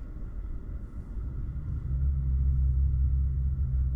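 A Tesla car backs up on its own under reverse assist, giving a low steady rumble that swells noticeably louder about halfway through, with no voices.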